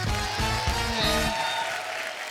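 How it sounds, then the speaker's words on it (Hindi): A studio audience at a comedy talk show bursts into loud, steady applause for a film's cast, sustained for a couple of seconds with a musical bed underneath. "एक बार भुज की कास्ट के लिए जोरदार ताली हो जाए।"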